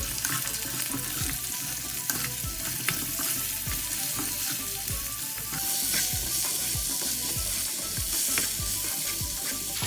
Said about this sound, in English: Then cover and let it fry, but keep an eye on it.